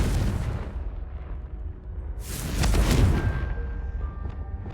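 In Hogwarts Legacy, a Confringo fire spell bursts into a loud fiery explosion midway, a deep rumbling blast over a droning game soundscape, followed by brief tonal chimes as it fades.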